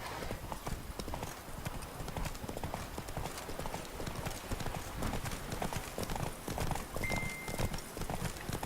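Roach the horse trotting in Witcher 3, with dense rhythmic hoofbeats running close and steady throughout and brief voices and other game sounds mixed in.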